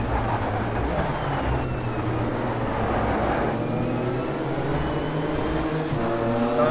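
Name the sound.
Cadillac DPI race car engine in the video game Automobilista 2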